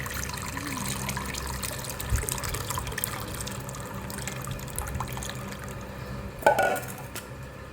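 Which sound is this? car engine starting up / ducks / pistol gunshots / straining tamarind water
straining tamarind water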